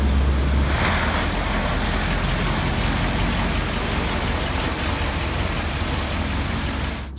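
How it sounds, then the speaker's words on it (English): A loaded lorry carrying dirt rumbles steadily into a riverside sand washing site, a loud continuous low engine drone with broadband road noise close by and no talk. "This lorry coming in is with dirt."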